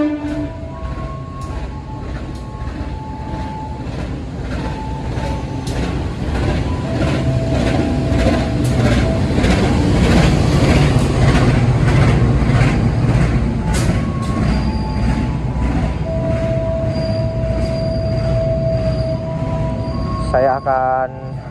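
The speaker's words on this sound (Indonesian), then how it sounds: "Pukul 23:10 tepat waktu kereta api Majapahit yang akan saya naiki masuk di jalur 4" Majapahit economy train hauled by a CC203 locomotive pulling into platform 4 at Solo Jebres station at night, a loud sustained rumble of rolling cars with horn tones and squeals, heard up close with faint talk around.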